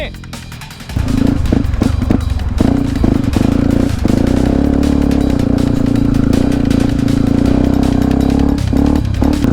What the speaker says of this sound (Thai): เปิดแรงๆหน่อยคันเร่งไม่ต้องกวนหมดหรอกเปิดแม่งล้อหมุน